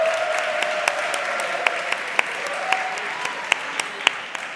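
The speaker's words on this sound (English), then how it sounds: "Let's give them a round of applause." Applause from an audience at a formal dialogue event follows a set of performances, a steady wash of clapping with a few sharper nearby claps standing out.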